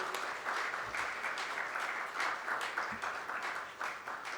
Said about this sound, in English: request all of you to give Mr. Rohit Bansal a big round of applause for his wonderful speech.